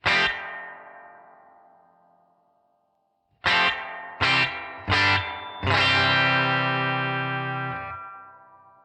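Guitar through a Headrush Spring Guru spring reverb with the boing control set high: one struck chord rings out and decays, then after a pause three quick stabs and a long held chord wash into a shimmering tail.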